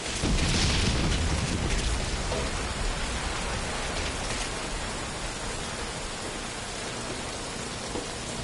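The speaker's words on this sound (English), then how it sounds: "That rain just won't let up." Heavy rain pours in Metal Gear Solid V: Ground Zeroes, a dense, steady hiss of drops on surfaces. It is loud at the start, eases slightly, then holds constant with no talking.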